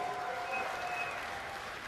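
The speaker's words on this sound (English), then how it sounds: "Big round of applause for him yet again." Faint, steady applause from a BlizzCon audience at the StarCraft II 2011 finals ceremony, a continuous wash of clapping heard from a distance for under two seconds.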